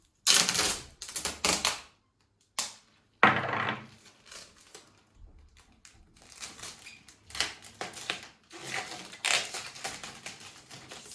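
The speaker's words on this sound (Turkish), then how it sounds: "sıkı ve dikkatli bir şekilde bantlıyorum ki şişeyi çevirdiğimizde su dışarı sızmasın" Packing tape is pulled and wrapped tightly around plastic water bottles, giving several loud ripping and screeching bursts separated by pauses, then quieter crackling tape handling.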